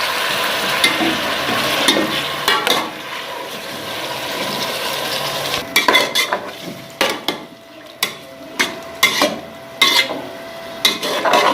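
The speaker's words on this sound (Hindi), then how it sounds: "आधा किलो चिकन डालेंगे, ये फ्राई करेंगे इसके अंदर।" Half a kilo of chicken frying in a pan for chicken pulao, a loud steady sizzle that later breaks into repeated scraping stirs and clatters, with no speech.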